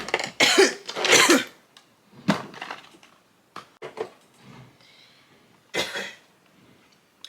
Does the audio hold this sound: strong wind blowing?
no